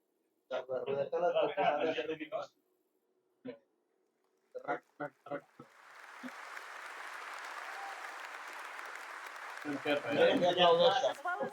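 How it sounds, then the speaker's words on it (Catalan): Audience at the CitizenCon Star Citizen presentation breaks into sustained applause lasting several seconds, with people talking before and after the clapping. "Aplaudeixen"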